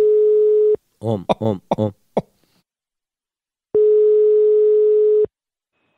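A telephone call tone plays during dialing, as two long steady beeps separated by a short gap in which a voice briefly speaks, with the tone loud and clear.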